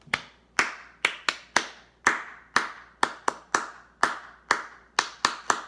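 Hands clap along to a children's story-time song, about a dozen sharp, distinct claps in a loose, uneven rhythm, close and fairly quiet, with no voices between them.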